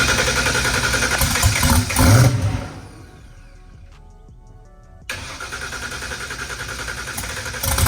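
A 3000 hp small block Ford race engine roars loudly, then cuts out into near silence for a couple of seconds before catching and firing back up into a steady, rough, close idle.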